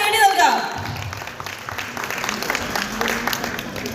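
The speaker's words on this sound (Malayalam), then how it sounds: "നല്ലൊരു കൈയടി നൽകാം." Guests at a betrothal function break into applause, a moderate, scattered clapping that builds after a speaking voice and continues with murmured voices underneath.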